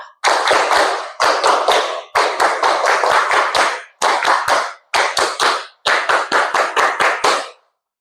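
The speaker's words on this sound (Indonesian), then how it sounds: "Tepuk tangan semuanya." A group of schoolchildren clapping hands in unison in a classroom, six rhythmic bursts of quick, loud, close claps separated by short pauses.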